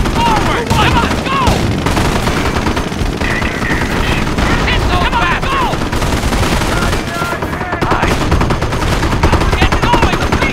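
Dense rapid gunfire and machine-gun bursts from a Company of Heroes battle in Montebourg, crackling continuously and loudly throughout with scattered shouted voices mixed in.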